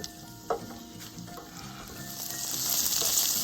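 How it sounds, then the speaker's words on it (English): Chopped onions and canned mushrooms sautéing in a pan, a continuous close sizzle with a few sharp stirring scrapes, the hiss growing fuller toward the end. "we're just going to saute these up until our onions get translucent"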